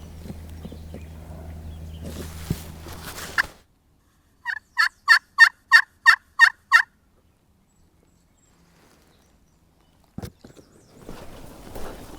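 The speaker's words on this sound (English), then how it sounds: "There's turkeys back right there." A wild turkey gobbles in a rapid burst of about eight loud, rattling notes during a turkey hunt in Maine, with rustling and low footsteps before it and quiet afterward.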